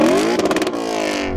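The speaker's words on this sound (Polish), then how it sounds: "Wynalazek, z którym rozpoczniemy wątek rozsądnych cenowo silników ośmiocylindrowych, to Audi S6 C5" Audi S6 C5 V8 engine revs, pitch climbing quickly into a loud sustained howl, holding briefly, then dropping off as the throttle closes at the end, up close with no voices.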